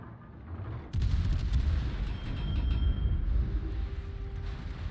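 Naval guns fire in the World of Warships video game, a heavy boom landing about a second in and then a sustained rumbling roll of gunfire and engine noise.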